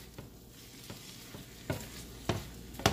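Cabbage and seasoning are stirred in a frying pan, a faint sizzle under a handful of irregular scraping strokes that grow sharper toward the end, quiet and close.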